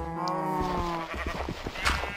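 Sheep and goats bleating in the Minecraft video game: a drawn-out, wavering bleat opens, then gives way to a scatter of short, clicky game noises and brief animal calls, fairly loud and close.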